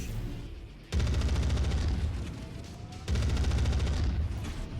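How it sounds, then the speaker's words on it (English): Large laser turrets fire in MechWarrior 5, loud sustained bursts of rapid pulsing energy with a deep rumbling low end, two long volleys separated by a brief lull. "Those laser turrets are definitely doing damage. Those are large lasers."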